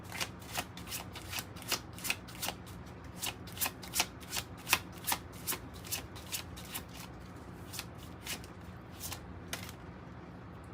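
A deck of tarot cards is shuffled by hand in a steady series of crisp riffling bursts, close and clear over a quiet background.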